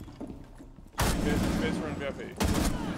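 Shotgun blasts in a video game, a loud sudden boom followed by a second heavy blast with reverberant tail, over a voice talking and game sounds.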